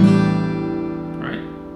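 A single guitar strum rings out close and slowly fades, followed by a faint brief scrape near the end.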